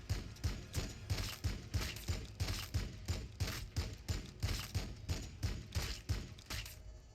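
Units in Warhammer 40K Battlesector open fire in a sustained rapid volley, repeated heavy thumping shots in a steady rhythm lasting several seconds, fairly faint and distant-sounding, before tapering off.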